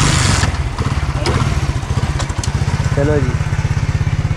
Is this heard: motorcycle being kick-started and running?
yes